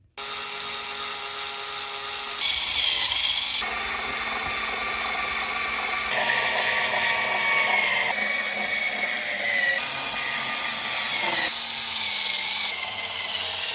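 Power driver spinning the seven 2mm bolts back into a Traxxas UDR radio-controlled truck, heard as a steady high whirring motor in continuous bursts that shift in pitch, close and loud with no talking.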